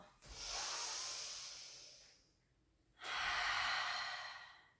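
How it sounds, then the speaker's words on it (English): Slow, deep breaths during a Pilates session for balance and mobility: one long airy exhale, a short pause, then another long breath. Both are close and clear, with no talking over them. "Nice deep breaths."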